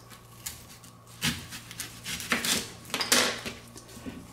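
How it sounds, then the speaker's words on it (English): A knife trims the ends off onions for grilling: a handful of quiet, scattered taps and scrapes spread over four seconds, with no talking. "So we're just going to cut the ends off the onions."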